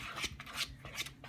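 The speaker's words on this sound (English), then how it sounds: "Just try to scrape the sides of the bowl as much as you can" A spatula scrapes the sides of a mixing bowl holding cinnamon roll dough, giving four rhythmic, rasping strokes close up, each a short gritty swipe, with no voices.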